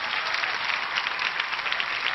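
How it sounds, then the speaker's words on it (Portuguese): A standing television audience gives sustained applause, a dense, even wash of many hands clapping at a steady level throughout. "a galera tá de pé, com certeza, aplaudindo"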